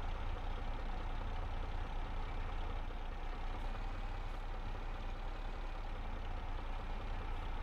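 A farm tractor's engine labouring to pull a heavy implement in Farming Simulator 22, a steady low droning rumble that stays constant and fairly faint throughout, with no voices.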